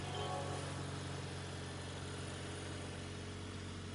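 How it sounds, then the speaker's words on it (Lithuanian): A 2023 Mazda CX-50 2.5 S Premium Plus idles steadily nearby with its 2.5 engine, giving an even, continuous low drone with a faint vibrating hum and no talking. "Variklis dirba gražiai"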